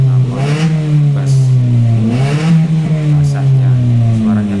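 A car engine revs through a bass-toned aftermarket exhaust, loud and close, with a rising and falling throaty note across several throttle blips.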